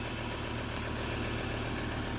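A Ford Ranger 3.2 TDCi Wildtrak double-cab pickup with its diesel engine idling, a steady low rumble with a faint regular throb, close and unchanging with no talk over it.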